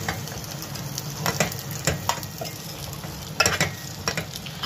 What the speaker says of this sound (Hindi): हम जो है आलू को अच्छी तरह से घी में और मसाले में फ्राई कर लेंगे, भून लेंगे।